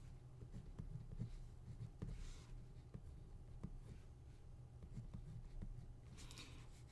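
Marker or chalk writing on a classroom board during a math lecture, with a steady run of soft scratchy strokes and taps at close range, over low room hum.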